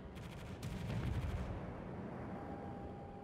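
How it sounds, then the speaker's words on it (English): Incoming shellfire in the naval battle game World of Warships, with a burst of rapid sharp cracks and booming impacts early on that fades into a low rumbling roar. "And now all of the fire starts coming in."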